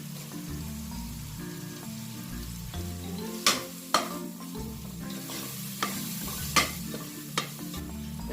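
Ginger garlic paste fries in a pan for a potato biryani, making a continuous close sizzle with several sharp clinks as a spoon strikes the pan while stirring, and no one speaking.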